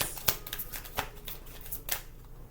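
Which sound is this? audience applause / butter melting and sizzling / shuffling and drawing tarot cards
shuffling and drawing tarot cards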